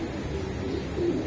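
Racing pigeon cooing nearby, a few soft, low throaty coos repeating over a quiet background.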